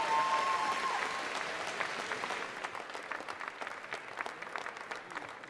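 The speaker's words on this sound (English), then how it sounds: "Once again, a big cheer for Jazz Carling." An audience at a British swimming championship finals applauds and cheers for a swimmer, a dense sustained wash of clapping that starts loud and slowly thins, with no talking over it.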